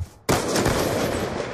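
A brief silence gives way to a sudden, loud, rapid burst of machine gun fire in the shooter game Black Ops 2, rattling on for over a second.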